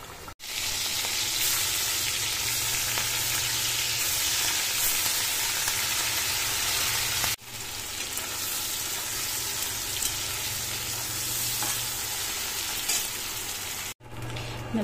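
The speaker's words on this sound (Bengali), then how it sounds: "চিংড়ি মাছ ভাজার ওই তেলেই দিয়ে দিচ্ছি রসুন কুচি" Chopped garlic frying in the oil left over from frying prawns, a loud, close, continuous sizzle with two brief breaks.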